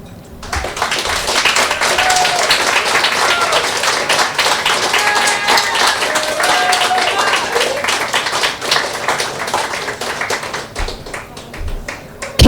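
Audience at a poetry club night claps steadily, a crackle of many hands with sharper individual claps standing out, loud and continuous before fading slightly at the end.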